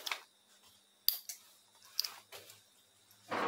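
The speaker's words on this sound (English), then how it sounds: "You can hear that clicking there." Jeep 42RLE transmission solenoid block, run on a 9-volt supply, giving a few sharp, close mechanical clicks spaced irregularly amid quiet background.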